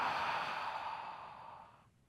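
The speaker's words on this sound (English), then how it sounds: "Last one, inhale. Open mouth, exhale again." A long, soft exhale through an open mouth during yoga breathing, a breathy rush of air that fades out over about two seconds, close and alone.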